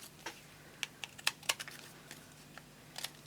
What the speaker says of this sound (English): I'm going to cut around her.